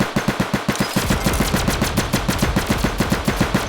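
Rapid automatic gunfire in the Roblox game FlagWars, a fast, even burst of loud shots repeating steadily throughout, with no talk over it.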